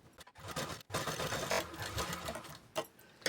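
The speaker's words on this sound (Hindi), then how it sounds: "अस्तर के ऊपर पे हमें कच्ची सिलाई लगानी है" A sewing machine runs a loose basting seam on blouse lining, with rapid mechanical whirring in short uneven bursts and brief pauses between runs.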